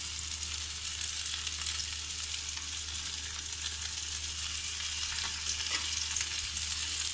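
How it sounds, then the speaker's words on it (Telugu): Marinated fish deep fries in hot oil, a steady, dense sizzle and crackle that holds even and close throughout with no talking. "మంచిగా డీప్ ఫ్రై చేసుకుందాము"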